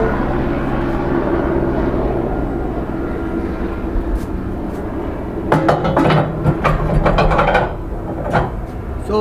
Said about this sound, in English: Nice timing helicopter.